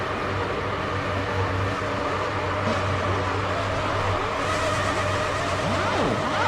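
Several Formula One race cars from the F1 2006 video game rumble on a parade lap, their engines holding a loud, steady drone. Pitch sweeps rise and fall as the cars move around, with no talking.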